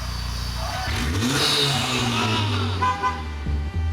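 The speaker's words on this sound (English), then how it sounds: "Give it a rev, son! Give it a rev!" An Ariel Atom 4R revs hard while stopped on a Welsh high street; the loud, close engine note climbs sharply and then settles back to a rough, throbbing idle.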